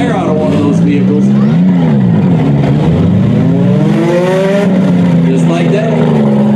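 Compact cars in a demolition derby heat, engines revving loudly and continuously with rising and falling pitch, crash impacts buried in the roar, while a voice talks over the action.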